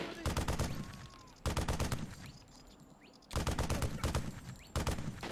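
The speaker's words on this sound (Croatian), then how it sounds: "Teški mitraljez." Heavy machine gun in the Shellshock 2 video game fires in loud, rapid bursts, three long volleys separated by brief pauses, with no voices over it.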